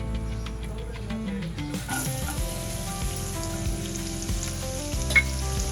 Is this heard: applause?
no